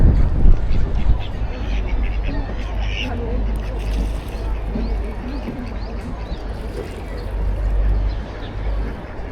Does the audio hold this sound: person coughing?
no